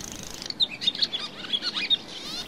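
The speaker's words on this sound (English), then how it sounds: "a swallow," Small bird chirping and twittering, a swallow, with a run of short bright calls repeated several times at a quick irregular pace over faint background hiss.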